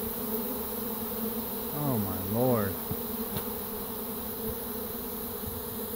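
A honeybee swarm buzzes close by in a steady dense drone, with individual bees whining past in rising and falling tones, and a person speaks briefly.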